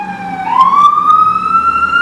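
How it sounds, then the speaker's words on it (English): A loud emergency vehicle siren outside a window wails steadily, its pitch sliding upward and holding high, with a rumble of traffic underneath. "a lot of sirens today out my window"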